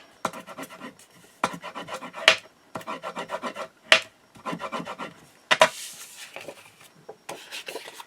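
Short bursts of firm rubbing strokes burnish paper for a handmade recipe book, each stroke a dry scraping pass with small gaps between them, close and clear with no talk.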